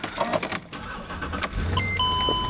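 A Mercedes-Benz CLS550 starts up: a few soft clicks, then a short crank as the engine catches and settles into a steady idle, with dashboard chimes sounding over it.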